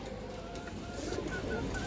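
A black-necked female pigeon, about one hand in size, coos softly amid low, busy loft noise; the sound is faint and continuous with no speech.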